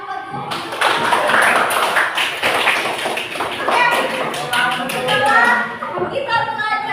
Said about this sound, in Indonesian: tepuk tangan buat guru